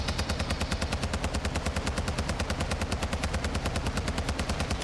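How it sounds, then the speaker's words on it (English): The TAC V battle rifle in Modern Warfare 2 fires a rapid, evenly spaced stream of loud, close shots, one steady automatic burst lasting several seconds with no pause. "And this is the TAC V. It's a battle rifle variant of the TAC 56, so the SCAR basically."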